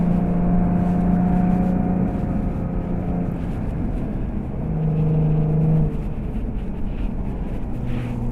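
A 2013 Jaguar F-type 3.0 litre V6 overtakes on a UK road, heard from inside as a loud steady low engine and road rumble with shifting engine tones, and no speech.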